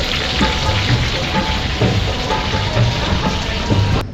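Chicken sizzles and fries on a hot tawa at a food stall, a steady dense crackle with soft stirring scrapes throughout, close and loud, ending abruptly.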